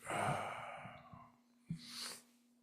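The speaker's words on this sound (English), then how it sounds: "I gotta blow my nose." A close, quiet nose blow: a breathy nasal rush, a short pause with a soft snort, then a second hissing blast that fades out.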